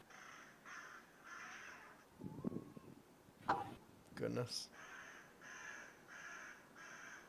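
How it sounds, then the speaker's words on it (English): A crow caws repeatedly in steady, evenly spaced bursts, fairly close and insistent, with people talking briefly in the middle. "It's a persistent crow."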